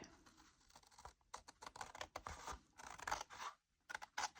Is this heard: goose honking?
no